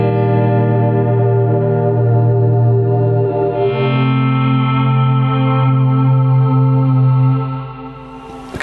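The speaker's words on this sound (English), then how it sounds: "So we've got the El Capistan giving us that tape echo. Let's hear that in conjunction with the volume pedal on its own." Guitar chords swell in through a volume pedal and an El Capistan tape echo, sustained and layered with repeats, shifting to a new chord midway before fading out.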